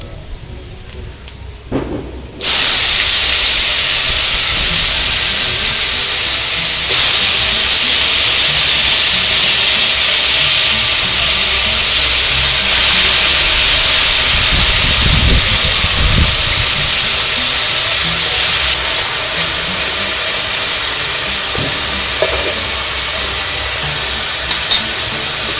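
Potatoes drop into hot oil already crackling with whole cumin seeds and curry leaves, setting off a loud, steady sizzle that holds alone for the rest of the stretch with only faint stirring clicks.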